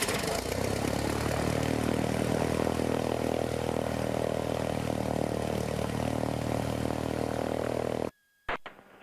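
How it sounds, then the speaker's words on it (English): A 1973 Cessna Cardinal 177B's engine runs loudly with a steady propeller drone close by, then cuts off abruptly near the end, followed by a brief quieter stretch. "we'll turn the key and get it fired up."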